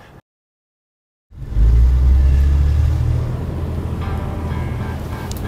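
A 3.6-litre, 285 horsepower car engine starts after a brief silence, surging into a loud, deep rev before settling to a steady, lower idle rumble close by.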